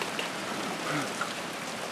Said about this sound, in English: It's a hailstorm that we're having